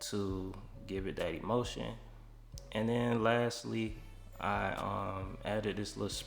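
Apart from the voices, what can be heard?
No everyday noise stands out behind the speech.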